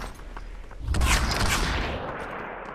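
Sustained burst of gunfire in the Population One battle royale, a dense fusillade of overlapping shots swelling loud and close around a cemetery drop, then tapering off, with no talk over it.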